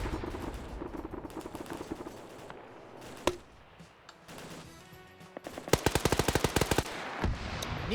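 Gunfire rattles through a large PvP military video game match between NATO and Russian sides: dense overlapping shots early, a sharp single crack, then a fast, loud automatic burst of rapid regular shots.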